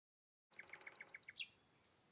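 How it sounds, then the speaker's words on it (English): Birds in a forest in the video game Mushroom Hunting Simulator, heard as a single faint burst of quick, evenly spaced chirps that ends in a short trill. "You hear the birds are chirping. In this game also."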